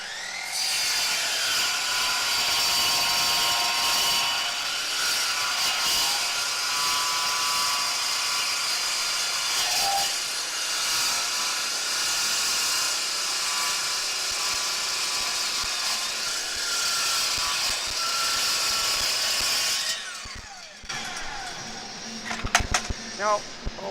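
A compound miter saw cuts through a big thick piece of material, a loud continuous high grinding whine lasting about twenty seconds, then the blade stops and spins down, followed by a few clatters.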